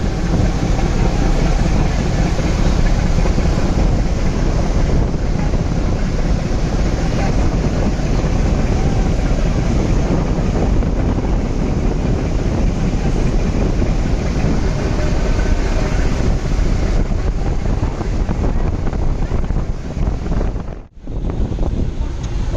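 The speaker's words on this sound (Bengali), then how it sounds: "ওই লঞ্চটিকে ওভারটেক করার জন্য কিছুটা গতি আর একটু বাড়িয়ে দিল" A large passenger launch, the M.V. Doyel Pakhi-8, speeds up to overtake another vessel on a river trip, heard as a loud, steady engine roar mixed with heavy wind rumble that drops out briefly near the end.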